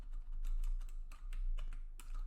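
Quick, light clicking of computer keyboard keys in irregular bursts, close and fairly soft, during a networking lab session.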